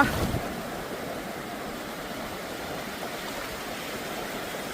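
Steady rushing sea surf on the Strait of Gibraltar between Morocco and Spain, with a broad wash of noise and a brief louder surge at the start, continuous and close, with wind noise.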